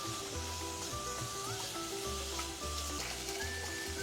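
Shredded cabbage stir-frying in a pan sizzles steadily, with a constant crackle and occasional stirring scrapes, close and continuous with no talking.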